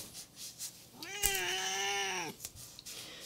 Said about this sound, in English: if the whining Siamese really gets on your nerves